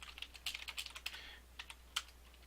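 Computer keyboard typing in a word-processing session, a quick run of light, close key clicks followed by a pause and a few more scattered taps, faint and without voices.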